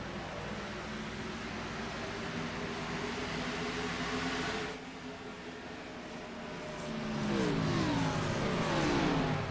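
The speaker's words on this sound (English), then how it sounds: "only a few engines are running as they go through turn 3." Race car engines in the iRacing video game at Dover Motor Speedway, heard from an in-car or entry camera as a few cars power through turn 3: a steady mid-pitched engine drone that dips briefly, then swells louder.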